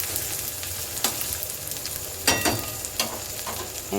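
Ginger frying in a pan for a quick tadka, with a steady background sizzle and a few sharp scraping strokes of a spoon stirring it.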